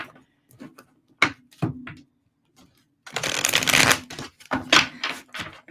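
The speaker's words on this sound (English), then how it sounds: "I'm going to do a quick shuffle here" Tarot cards shuffled by hand in short riffling bursts, separated by brief pauses, with a longer dense riffle in the middle, close and crisp.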